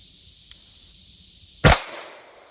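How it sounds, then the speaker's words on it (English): A single sharp shot from a Beretta 92 pistol fired double action at an indoor range, loud and close, with a brief decaying tail and no talking. "I am going to take my first shot double action"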